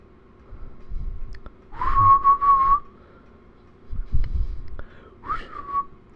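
Several short whistled bursts, a quick run of tones and then a brief rising whistle, with low rustling and handling noise between them.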